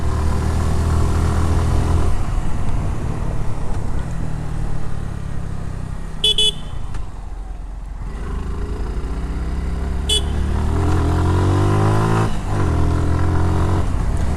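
A 2024 Suzuki Gixxer 155 naked sport motorcycle rides along a road, its engine droning steadily and loudly with rising revs near the end, plus a couple of brief high chirps in the middle.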